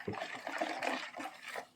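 Yeast, water and sugar are stirred together in a bowl, giving close, wet swishing and sloshing in short uneven strokes, alone and fairly quiet.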